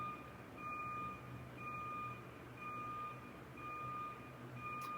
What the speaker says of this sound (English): so sorry if you can hear the beeping.